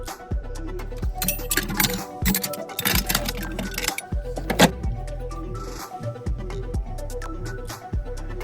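Metal car tools, a jack, wrench and speed handle, clink and clatter as they are picked up and set down for a flat tire change, with repeated sharp knocks and rattles close by over a low steady hum.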